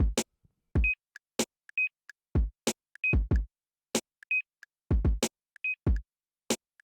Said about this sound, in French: juste le petit bip de caisse